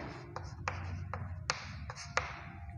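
Numbers being written on a board during a class 6 maths lesson: a quiet series of sharp taps and short scratchy strokes, about seven in under three seconds, heard close with faint room noise.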